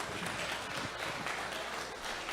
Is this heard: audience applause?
yes